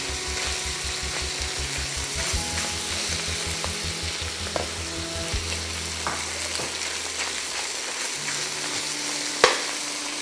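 Beef coated in cornstarch stir-fries in a wok for a bitter melon beef dish, with a continuous loud sizzle and a low rhythmic mechanical rattle underneath early on, plus scattered clinks and a sharp knock near the end.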